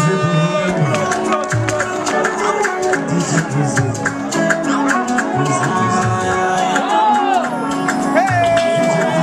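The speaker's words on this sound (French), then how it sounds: "Applaudissez pour vous-même." A stage-show audience of a comedy performance claps and cheers in a dense, continuous wash of applause, whoops and crowd babble, with a voice talking over it.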